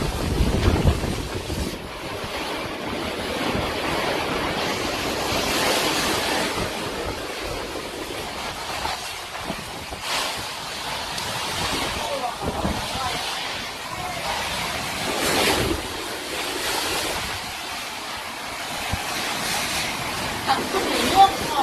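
Strong storm wind roaring and buffeting steadily throughout, loud gusts surging and easing, with people speaking intermittently underneath.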